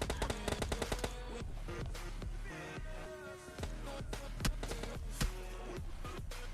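Gunfire in the PUBG Mobile Lite mobile game during a solo-versus-squad match, with rapid automatic bursts and single loud shots repeating throughout, sharp and close with game ambience between volleys.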